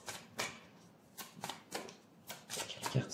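Tarot cards being shuffled for a card draw, quick soft riffling bursts repeating in an uneven rhythm, close and fairly quiet with no talking.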